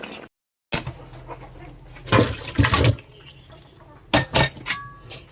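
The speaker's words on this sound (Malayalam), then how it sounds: "ഇനി നമുക്ക് തീ ഓഫ് ചെയ്തിട്ട് ഇതൊന്ന് അരിപ്പ പാത്രത്തിലോട്ട് അരിച്ചെടുക്കാം" Cooking water is poured off through a strainer after the heat is switched off: a few short splashing gushes of draining water near the mic, with quieter clatter between them.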